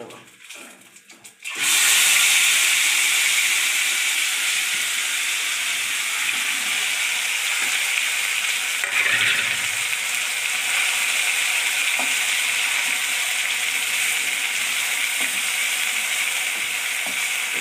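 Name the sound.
palak paneer spices frying and spattering in a pan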